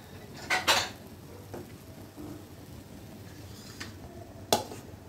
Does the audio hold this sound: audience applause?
no